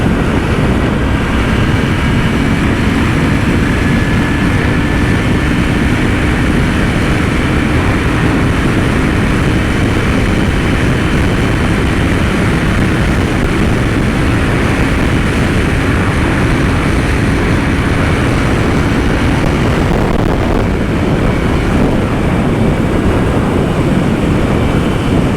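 A Moto Guzzi V7 III Racer, a roughly 52-horsepower motorcycle, rolls on in top gear while riding, its steady engine drone buried in loud, constant wind roar that never lets up.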